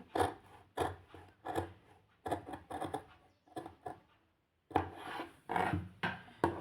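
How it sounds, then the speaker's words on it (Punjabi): Scissors cut through suit fabric along a neckline in close, crisp rasping snips, several quick strokes grouped in bursts with a short pause midway. "ਇੱਥੋਂ ਆਪਾਂ ਇਹਨੂੰ ਸਿੱਧਾ ਹੀ ਕੱਟ ਕਰ ਲਾਂਗੇ"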